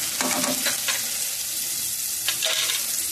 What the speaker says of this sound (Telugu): ఈసారి మనం మసాలా కూడా వేసేసుకుందాం.